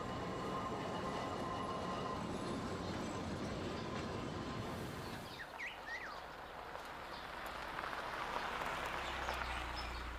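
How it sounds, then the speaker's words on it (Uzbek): A train passes by at a distance, a faint, steady rumble of wheels and cars that thins out halfway through, leaving quieter ambient noise with a few brief high squeaks and no talk. "Poyezd ketyapti, hoy."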